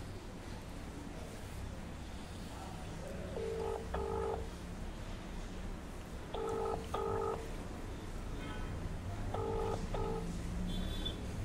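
Telephone keypad dialing tones sound in three short bursts of beeps, spaced a few seconds apart, fairly faint over a windy outdoor background with no talking.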